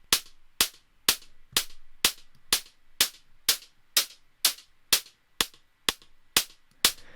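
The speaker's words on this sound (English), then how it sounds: "next we've got hi-hats, and these actually came from the pet food can." Bright, metallic hi-hat hits, sampled from a pet food can and heavily processed with effects, tick in a steady rhythm, each short and crisp with a brief ringing tail.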